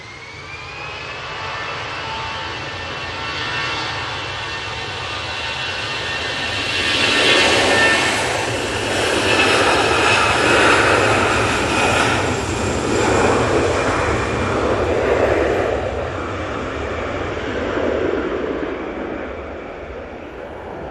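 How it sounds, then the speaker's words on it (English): An EasyJet jet airliner rolls down the runway at Manchester Airport for takeoff, its engines a steady, loud roar that swells toward the middle and holds, with no one talking over it. "Easyjet on the roll."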